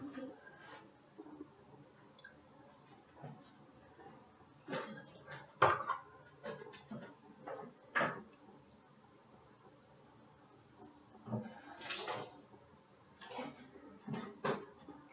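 Quiet kitchen handling as a different cup and spoon are fetched from a cupboard: scattered clinks, knocks and a cupboard door, with a few sharper clatters spread across the stretch, fairly close and soft.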